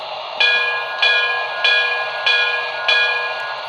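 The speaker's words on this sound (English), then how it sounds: "Let's turn on the bell, F1." A BLI PRR Q2 Duplex model locomotive's sound decoder rings its bell in five evenly spaced, bright metallic clangs, each decaying before the next, close and clear with no talk.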